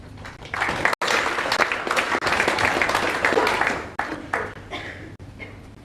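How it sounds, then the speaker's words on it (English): Applause from the audience at a World Pool Championship semi-final fills the hall, a dense burst of clapping that thins and picks up again for several seconds. "That was nearly a premature round of applause there."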